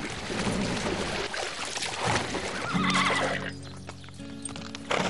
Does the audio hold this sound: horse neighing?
yes